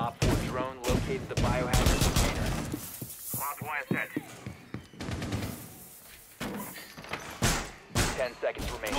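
Gunfire bursts and shots in the video game Rainbow Six Siege during a biohazard container defense round, rapid crackling volleys mixed with thuds and breaking sounds, heard under excited player chatter.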